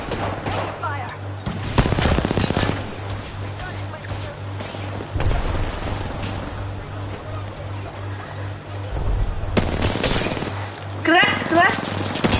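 Gunfire in the video game Apex Legends: loud bursts of rapid shots crack out in several clusters over a steady game background hum, with a player's voice talking in between.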